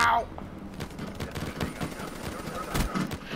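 Gunfire from Black Ops 3 multiplayer play comes as a rapid, overlapping spray of shots. It sounds loud and fairly close, with a sharp burst near the start and a heavier crack toward the end.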